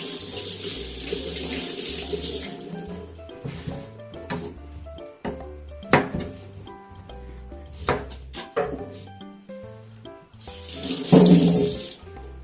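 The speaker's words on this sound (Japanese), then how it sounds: "きゅうりはちょっと太めのきゅうり洗いますね" Tap water runs into a sink while a thick cucumber is washed, a hissing stream at the start and again near the end, with light knocks and handling sounds in between.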